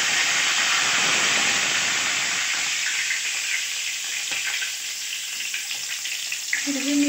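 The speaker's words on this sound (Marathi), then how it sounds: "मस्त जिरे मोहरी टाकून घ्यायचं, छान तडतडू द्यायचं" Cumin and mustard seeds spluttering in hot oil for a tempering, a dense continuous sizzle and hiss with scattered crackling pops, close and loud, easing slightly toward the end with a faint clatter.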